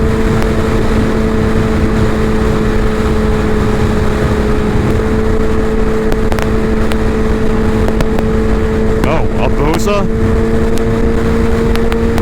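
A sport motorcycle overtaking on the road, heard from the rider's position as a loud, steady engine drone with constant wind roar, holding an even pitch throughout with a brief rattling flutter near the end.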